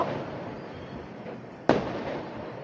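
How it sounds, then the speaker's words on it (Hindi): Firecrackers going off during Chhath Puja celebrations: a steady crackling background with one sharper, louder burst partway through, heard at a moderate distance with no speech. "देखो ना क्या मस्त पटाखे फूट रहे हैं, दिख रहा है आपको फटाखे फूट रहे हैं।"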